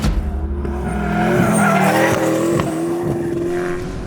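Tyres of a Hennessey Venom F5 Revolution Evo spinning and squealing as the car drifts under hard power on a public road, a loud sustained screech with the engine roaring close by.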